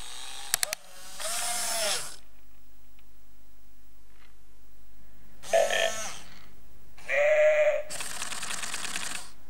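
Several loud, close sheep bleats come in separate bursts: one early call, then two more near the end after a long quiet stretch, with a sharp clatter at the very start.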